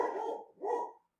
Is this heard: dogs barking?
yes